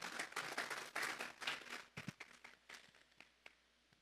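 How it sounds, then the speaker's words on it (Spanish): Church congregation applauding during a Sunday morning service, a dense burst of clapping that thins out into a few scattered claps and fades toward the end. "Vamos a darle un fuerte aplauso pues al Señor esta mañana."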